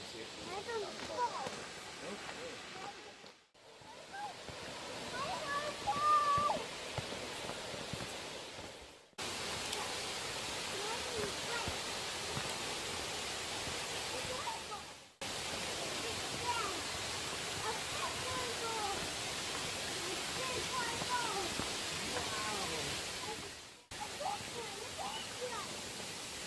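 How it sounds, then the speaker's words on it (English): A steady roar of rushing water from a waterfall nearby at Silver Falls, broken by a few abrupt cuts between takes. "There's a waterfall here!"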